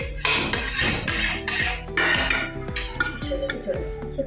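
A metal spoon scrapes and knocks against a cooking pan while turnip and chicken bharta is stirred, giving repeated rhythmic clattering strokes, close and fairly loud, with no voices.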